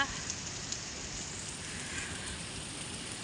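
Rain falls steadily in Saudi Arabia, a dense even hiss of drops with no distinct pattering, continuous and fairly quiet for the whole stretch.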